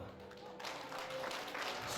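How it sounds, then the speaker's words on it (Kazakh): A group of relatives clapping at a family gathering: a quiet murmur at first, then a continuous wash of applause swells in and carries on steadily, with faint voices mixed in. "Ағайын шапалақ ұрып жатты."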